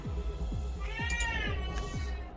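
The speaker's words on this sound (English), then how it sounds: "And I hear a cat." A cat meows repeatedly, four or five short drawn-out calls in a steady rhythm, moderately close and clear, with no talking over it.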